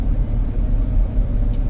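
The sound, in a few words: 2014 Jeep Grand Cherokee engine driving uphill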